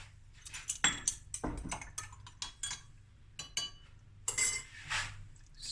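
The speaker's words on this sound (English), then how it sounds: "And we're going to stir this." A spoon clinks and scrapes against a mixing bowl while stirring cake batter of two eggs and half a cup of oil, with irregular close metallic taps and rasps, no voices.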